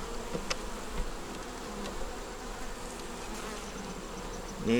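Honeybees at an open hive during an inspection, a steady close droning buzz that fills the whole stretch at an even level.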